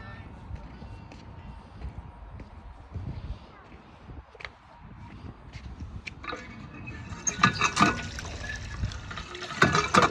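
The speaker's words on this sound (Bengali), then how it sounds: "এটা ঘোরালেই জল পড়বে।" A turned tap releases water outdoors in Napier, New Zealand, with a faint gush and splashing that grows louder over the last few seconds, while a person talks quietly throughout.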